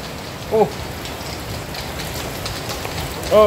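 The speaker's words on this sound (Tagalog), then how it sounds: "Biglang bumuhos ang ulan." Sudden heavy rain pouring down over a small backyard greenhouse, a dense, steady hiss of downpour filling the whole span, with brief chirps or squeaks near the start and end.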